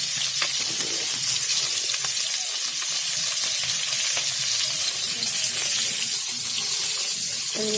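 Fish frying in a pan in a home kitchen for a light papaya dish, a steady close hiss and crackle of hot oil running throughout with no voices.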